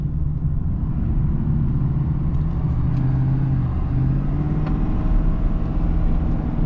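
A 2022 Ford 6.7 Powerstroke diesel truck engine with a Banks Ram Air intake rumbles steadily and loudly up close, with a deep low growl that swells slightly but holds throughout, no voices.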